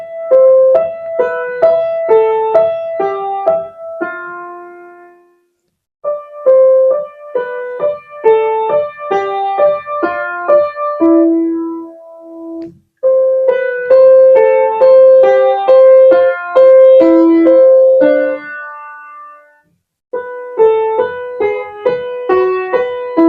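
A simplified piano arrangement of Handel's Passacaglia played alone, with phrases of clear, evenly struck notes and chords, separated by short pauses, close and fairly loud.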